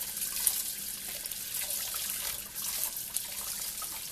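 Garlic rinsed under running tap water, a steady close hiss and splash of flowing water over the cloves with small dribbling spikes, no voices.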